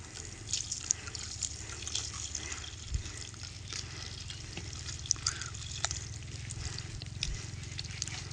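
Water is poured into a cooking pot for rice at three glasses of water to three of rice, a steady trickling, splashing stream with scattered drips and clinks, fairly close.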